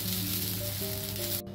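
Freshly grated coconut sautéing in ghee over medium heat for a gulkand coconut barfi, giving a steady, close sizzle that runs evenly and cuts off abruptly near the end.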